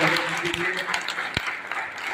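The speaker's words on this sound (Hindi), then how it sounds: "एक बार जोरदार तालियों से स्वागत है" Audience applause greeting a speaker at a Vishwakarma Puja function, a brief burst of mixed clapping under a fairly steady crowd wash, with a voice over it.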